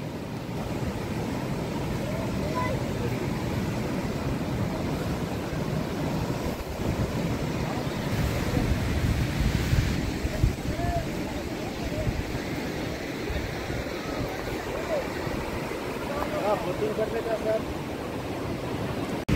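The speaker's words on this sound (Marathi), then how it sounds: "आता बघा हा समुद्र." Sea waves wash onto the beach at Ganpatipule on the Konkan coast, a steady broad roar with wind buffeting the microphone throughout, and voices faintly in the background.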